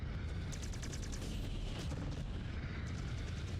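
Mech weapons in Mechwarrior 5 firing at a Stormcrow, a continuous roar of heavy booming shots with rapid pulsing bursts, loud and dense throughout.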